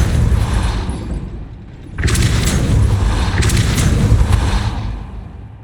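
The Depulso force spell is cast in Hogwarts Legacy on Xbox Series X, giving a loud booming blast with a thudding impact and a long rumbling wash beneath the game's sound.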